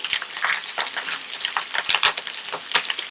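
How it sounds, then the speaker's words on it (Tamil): Curry leaves crackle and spit in hot oil in a pan with small nethili-like nedhuva fish, a dense, lively sizzle of rapid pops throughout, close and fairly loud. "கொஞ்சமா இது கருவேப்பிலை மேலே தூக்கி விடுங்க"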